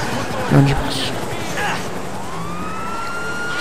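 A police car siren wails in GTA 5 on Xbox 360, rising and falling steadily beneath excited talking and game noise.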